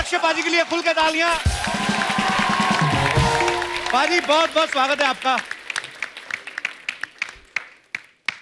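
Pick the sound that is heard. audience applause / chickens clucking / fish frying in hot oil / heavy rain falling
audience applause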